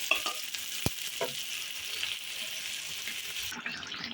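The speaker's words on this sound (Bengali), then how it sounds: "তো এই যে মাংস এখন কষানো হচ্ছে।" Meat, ginger-garlic paste and spices are stir-fried in a pan with onions and potatoes, making a close, steady sizzle broken by a sharp utensil clank and stirring scrapes before it cuts off abruptly.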